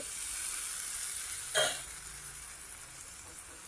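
Continuous sizzling in a pan with a brief louder scrape or splash midway, as boiled green peas are stirred into bubbling gravy.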